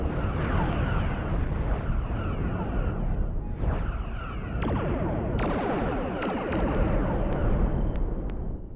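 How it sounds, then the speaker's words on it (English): A starship reactor blows apart in the space combat game Cosmoteer, a loud sustained roaring blast with rumbling debris and sharp crackling bursts layered through it, continuous for several seconds. "That was a reactor explosion."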